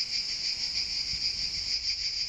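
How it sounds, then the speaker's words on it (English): Cicadas drone in Italy in a continuous, high-pitched shimmering buzz that pulses slightly but never stops, with no other sounds. "one thing you always hear in the background is the sound of the cicadas."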